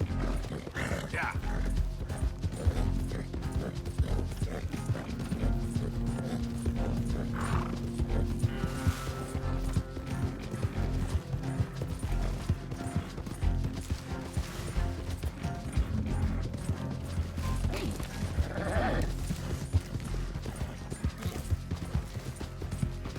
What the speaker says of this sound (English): And this horse can just run for days.